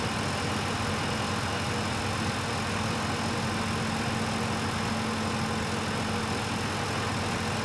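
Tractor engine in Farming Simulator 15, a steady mid-pitched drone that holds unchanged while the vehicle drives in reverse, with no voices over it.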